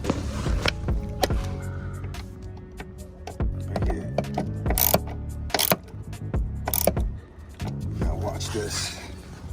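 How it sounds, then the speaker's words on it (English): A ratchet with a 7mm socket tightens a small bolt on a Mercedes W205. It clicks in quick irregular bursts close by, mixed with clunks and handling noise. "we'll take out this ratchet with a 7mm socket and"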